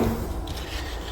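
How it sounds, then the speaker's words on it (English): A steel trowel rides sticky drywall joint compound along taped inside corners of a wall, giving a steady close scraping rub that runs for a moment with no talk. "And now I can just ride my trowel"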